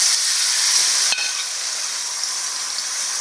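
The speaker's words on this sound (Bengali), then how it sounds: "এখন মাংসগুলো যে আছে এটাকে আমি ভেজে নেব।" Chicken pieces fry in hot oil in a wok, giving a steady, close, bright sizzling hiss with one brief stir or clink partway through and no talking.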